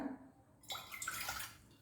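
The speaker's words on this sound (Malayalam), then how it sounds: "കുറച്ച് വെള്ളം എടുക്കുക എന്നിട്ട് ഇത് തട്ടി കൊടുക്കുക" Water pours into a pressure cooker on a stove in a steady rushing splash for over a second, starting after a short quiet moment.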